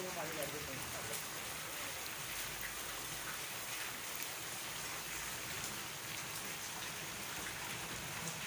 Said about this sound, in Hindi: ये देखें तूफ़ानी बारिश